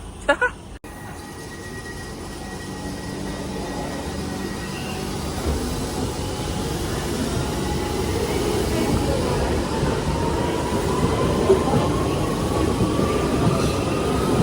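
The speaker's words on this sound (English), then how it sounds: "Central Line train to Ealing Broadway." A London Underground Central Line train rumbles along steadily, loud and close, with a faint tonal whine rising over the noise as it runs; a brief clatter opens the recording.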